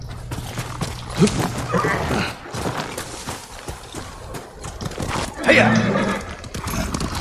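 In the samurai game Ghost of Tsushima, a horse's hooves clip-clop beneath a couple of sharp neighs or whinnies, set among game ambience and intermittent voices.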